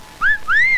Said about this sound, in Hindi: आप मुझे भी सीटी बजाना सिखाएंगे प्लीज?